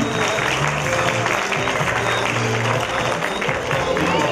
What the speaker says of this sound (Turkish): Kuvvetli alkışlarınızla perdemiz kapanıyor efendim